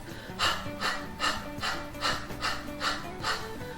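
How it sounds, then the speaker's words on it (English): Kapalabhati yoga breathing: a steady series of about eight sharp, forceful nasal exhalations in an even rhythm, close and clear, with no talk. "Kapalabhati breath."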